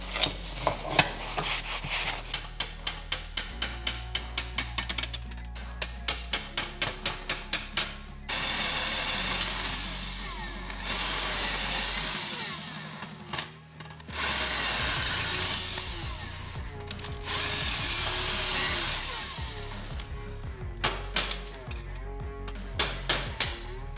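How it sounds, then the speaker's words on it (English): Rivets on a BMW E38 electric steering column being cut, first a run of rapid rhythmic rasping strokes, then long loud grinding bursts with brief pauses between them, close up and with no talking. "after that I will need to cut these rivets to remove this middle part"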